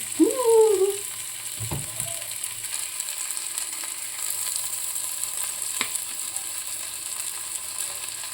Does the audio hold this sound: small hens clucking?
no